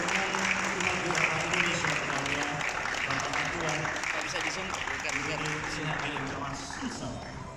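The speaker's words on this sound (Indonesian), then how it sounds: "boleh kita berikan tepuk tangan yang meriah" Audience applause at a formal ceremony in a hotel in South Sulawesi, a dense sustained clapping from a crowd that runs throughout, with voices and faint music underneath.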